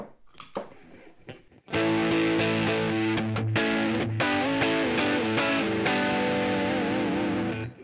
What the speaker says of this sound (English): I will engage the overdrive.